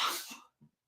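A single short sneeze, close and fairly quiet, bursting out and then trailing off with a brief soft sound after it.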